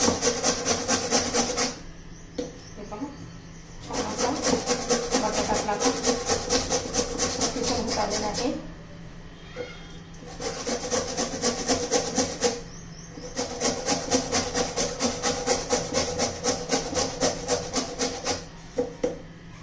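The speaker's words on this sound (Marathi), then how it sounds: "सर्व बटाटा मी आता असा किसून घेते" Potatoes are grated by hand on a grater, making loud rapid rhythmic rasping strokes in long bursts separated by short pauses, close up with no talking.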